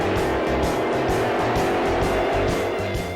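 A modified Chrysler 426 Hemi drag racing engine roars loud and continuous, with a steady pulsing rumble and a sustained high whine held throughout.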